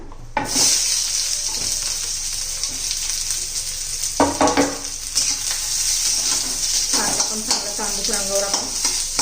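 Chopped onion sizzles as it is added to a hot pan of browned coconut for a spicy dhaba-style farsan curry, with steady frying hiss and a few louder scraping stirs near the middle and end.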